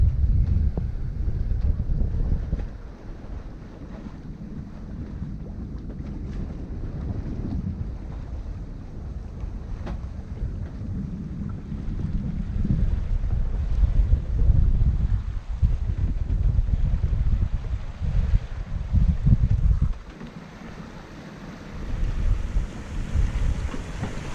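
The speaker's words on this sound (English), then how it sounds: "Well, we are lucky with the wind." Wind rushes steadily past a sailboat tacking across a fjord, with heavy low buffeting on the microphone, the hiss of water along the hull, and a brief lull near the end.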